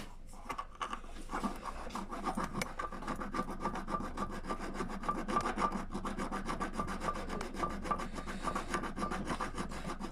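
Sandpaper or a file rubs epoxy off a rectifier part for a Mercury 70 hp outboard, making rapid, continuous scratchy strokes close by at a fairly quiet level, with no talking.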